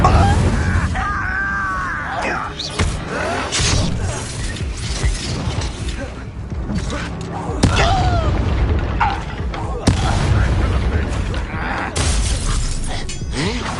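Fire and combat spells crackle and boom in the Harry Potter game Hogwarts Legacy, a loud, dense barrage of whooshes, shattering hits and impacts with shouted voices through the fight.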